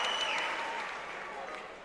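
A crowd at a basketball exhibition game in Franklin, North Carolina applauds and cheers, a broad steady roar that stays loud through the whole moment and eases off slightly near the end.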